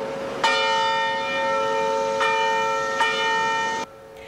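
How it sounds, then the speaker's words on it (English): Church bells ringing in tribute to civil rights icon John Lewis, three loud resonant strikes with long sustained ringing tones that fade between hits, cut off abruptly near the end, no voices. "Bells ringing at churches across the country today to honor civil rights icon John Lewis."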